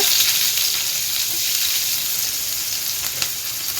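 Onions, cumin and mustard seeds sizzle in hot oil in a pan, a loud, close, continuous hiss that holds steady throughout, with a faint knock or stir near the end and no voices.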